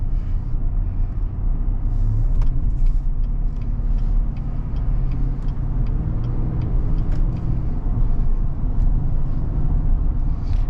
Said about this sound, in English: I'm gonna go ahead and take this Sierra Denali on the highway and see how it does